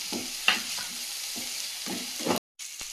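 Chopped tomatoes sizzle in hot oil in a pan as they are stirred, a steady close fry with several short scraping strokes of the spoon and a brief cutoff near the end.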